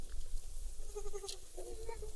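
Goats bleating on a small farm, a couple of short wavering calls heard at moderate distance over a steady outdoor background hiss.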